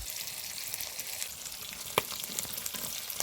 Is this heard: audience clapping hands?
no